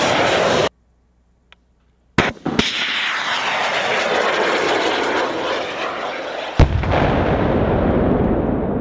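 An FGM-148 Javelin anti-tank missile fires outdoors: a brief loud crack, then a second burst that rolls into a long roaring rush that slowly fades, with another sharp bang near the end.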